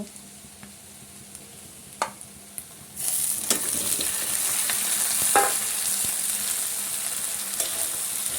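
Mutton going into a pan of chopped onion frying in mustard oil: a quiet stretch with a few scraping clicks, then a sudden loud sizzle that keeps hissing steadily, with occasional stirring scrapes.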